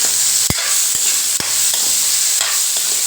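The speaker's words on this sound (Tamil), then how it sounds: "ஒரு துண்டு இஞ்சி ஒரு சின்ன நெல்லிக்காய் சைஸில் புளி போட்டு மொத்தமாக சேர்த்து வதக்குவோம்" Ridge gourd peel sautéing in a pan with ginger and tamarind, a steady close sizzle broken by several sharp spoon scrapes and knocks as it is stirred.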